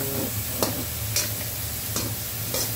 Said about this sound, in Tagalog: Pagka hulog nyo ng patis buddy, i-mix nyo.